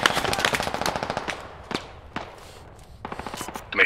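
Rapid bursts of machine gun fire in the military shooter game Squad, set in suburban warfare. A dense rattling stream of shots is followed by a short pause and single reports, then another burst, loud and close.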